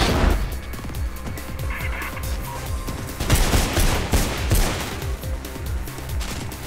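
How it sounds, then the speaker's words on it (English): Rapid bursts of gunfire ring out in the Mirror's Edge video game, loud overlapping shots and automatic volleys with sharp cracks and booms, continuous and close with no talk. "I know, you're shooting at me."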